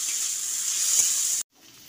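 Two medium onions, coarsely chopped, fry with garlic in a pan for a Bengali-style okra dish, giving a steady, close, bright sizzle that cuts off abruptly near the end.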